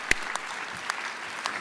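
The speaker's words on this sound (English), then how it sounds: "I think that deserves a round of applause." Scattered applause from a small audience at a transportation event honoring a commissioner, a few distinct claps standing out over a soft, steady patter, brief and moderately faint.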